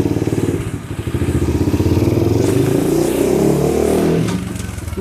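An SK 110 Pro mini trail motorcycle engine revs up on a test ride, with a close, loud, pulsing mid-pitched putter that climbs and holds, then eases off near the end, and no talking.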